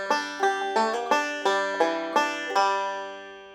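A bluegrass banjo plays a G lick begun with the index finger, a quick run of eight crisp plucked notes in steady rhythm, close and clear, ending on a ringing final note.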